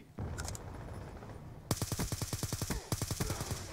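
Call of Duty gunfire from a Scar rifle: a few quick shots, a short lull, then a sustained rapid burst of automatic fire in an even rhythm, crisp and fairly close, with no talking.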